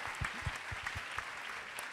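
Audience applause at an evening events-industry awards night in Lyon, a faint, steady wash of distant clapping with a few louder individual claps standing out.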